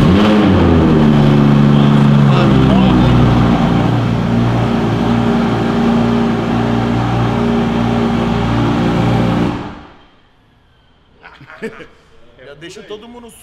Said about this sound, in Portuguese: Esse cold start dele tá muito alto